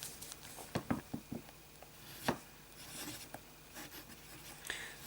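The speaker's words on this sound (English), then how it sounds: "Then I shall do a little bit of medium writing." Pen with Visconti Blue ink writing medium-sized lettering on paper: soft, irregular scratches and taps of nib strokes, close and faint, with no voices.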